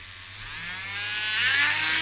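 A homogenizer machine blending juice runs with a steady high electric whine, growing gradually louder and harsher across the clip with no talk.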